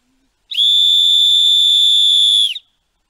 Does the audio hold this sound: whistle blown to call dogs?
yes